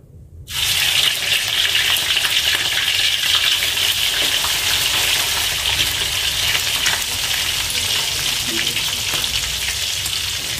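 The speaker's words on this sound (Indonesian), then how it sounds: "Saya goreng setengah matang ya, jangan kering-kering, setengah matang saja." Ikan keranjang fish frying in hot oil, a loud, dense, continuous sizzle that bursts in suddenly and holds steady throughout, with no speech.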